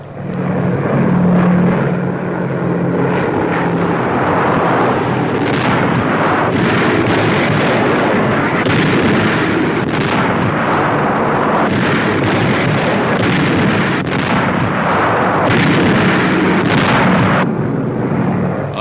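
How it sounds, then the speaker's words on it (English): Bombs dropped by heavy bombers in 1943 wartime footage explode one after another, a dense rumbling barrage of repeated booms and blasts over a continuous roar that stays loud throughout. "Giant bomber unloading a never-ending cargo of death upon the enemy."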